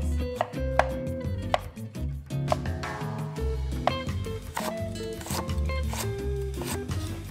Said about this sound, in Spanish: vamos a cortar las verduras